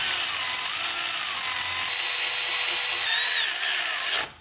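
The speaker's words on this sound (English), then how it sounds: "with some manual milling, with the Dremel and a carbide burr, we got just enough clearance" A Dremel rotary tool with a carbide burr mills metal by hand for clearance during an LS3 swap into a Miata. The high, steady whirring stays close and continuous, with slight pitch shifts as the burr bites, then stops abruptly at the end.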